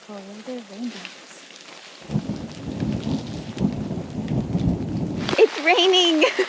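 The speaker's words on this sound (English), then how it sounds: "It's raining. It's raining." Rain pours steadily with a deep rumble of thunder beneath it, while a voice speaks briefly before and after the downpour.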